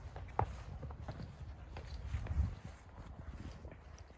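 Horses out walking on a pasture, their hooves giving soft, irregular clip-clops at close range, one sharper knock early on and a cluster of heavier steps midway, with a quiet rural background.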